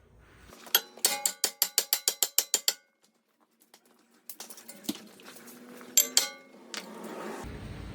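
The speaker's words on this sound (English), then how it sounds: "more than likely you're gonna have to use a hammer to break this free because that's seized on there" A 4-pound hammer strikes a seized, corroded front brake bracket on a Lincoln MKC/MKZ, ringing out in a fast close series of about a dozen sharp metallic clangs, then a pause and a few more scattered hits.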